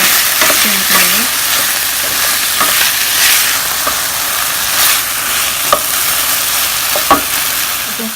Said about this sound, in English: So I'm adding a handful of cherry tomatoes.